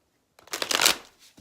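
Tarot cards riffle in one brisk shuffle lasting under a second, a close, crisp fluttering burst with a soft tap of the deck afterward.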